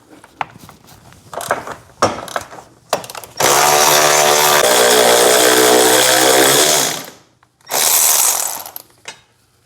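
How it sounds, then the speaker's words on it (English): A ratchet spins bolts off the cross brace of a BMW X7 with a loud, close mechanical whir. Short clicks come first, then a sustained burst of about three seconds, a pause, and a second shorter burst. "the first step to get there is to remove this cross brace, and it has two bolts holding it on"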